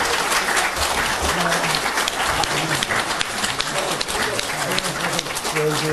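Vigorous, continuous applause from a congregation at a Korean religious reading gathering, with faint tonal sounds beneath the steady clapping.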